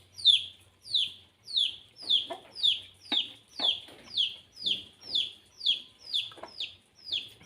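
Repeated chicken clucks, about a dozen in a steady rhythm, close by with faint rustling and a low background hum.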